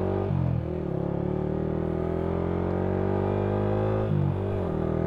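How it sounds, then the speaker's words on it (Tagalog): Yamaha Sniper 155R motorcycle with a UMA V3 aftermarket exhaust pipe revving, heard muffled from inside a helmet with an open visor: a steady bassy engine drone with two quick throttle blips, near and continuous. "Yan ang tunog ng UMA V3 pala pag naka-helmet."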